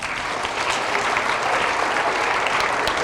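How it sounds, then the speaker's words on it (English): Sustained audience applause fills a school assembly hall for a 4th-6th grade character education event, a steady dense wash of clapping at even loudness throughout with no voices over it. "let's give him another round of applause"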